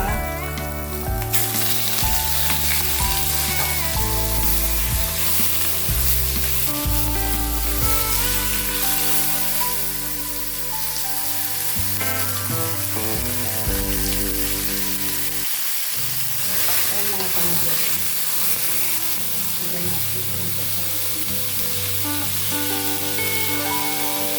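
Garlic and beef sizzle and fry in a pan for beef curry, a continuous crackling hiss running throughout beneath shifting background music.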